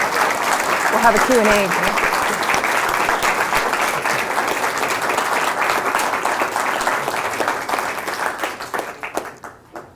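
Lecture audience at the Southam Lecture on journalism breaks into sustained applause that gradually thins toward the end, with a speaker's voice briefly over it.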